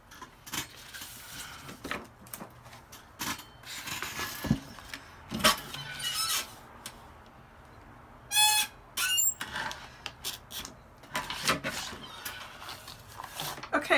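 A desk chair squeaks and creaks in short, loud bursts as it shifts during indoor paper crafting, rising sharply over a quieter background while a person talks at times.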